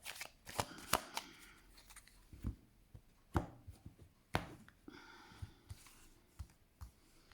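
Oracle cards being shuffled give a quiet, close, irregular run of riffling flutters and soft slaps, with no voices.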